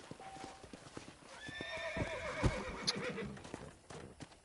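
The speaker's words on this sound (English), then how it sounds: "¿Y para eso hemos cogido el caballo?" Horse hooves clip-clopping in the video game Red Dead, a faint series of quick hoof knocks with a whinny partway through, heard alone without talk.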